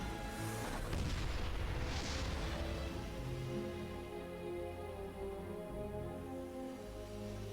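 StarCraft 2 siege tanks in a pro match fire booming artillery shots, with a dense run of heavy blasts at first that fades into a steady rumble of battle noise.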